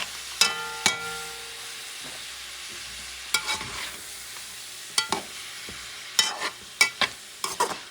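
Large shrimp for a Creole dish are stirred in a hot pan. A soft, steady sizzle runs throughout, broken by irregular close clicks and scrapes of the utensil against the pan.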